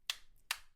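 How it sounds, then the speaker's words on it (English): Two sharp, isolated hand claps close to a SteelSeries Arctis Nova 3 Wireless gaming headset microphone with AI noise cancellation at 50%, evenly spaced with quiet gaps between them. "Clapping in front of me"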